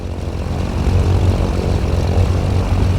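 Twin propeller engines of a Cessna 414AW Chancellor taxiing in a flight simulator, a loud, steady droning hum with a low throbbing pulse that holds constant throughout, no voices.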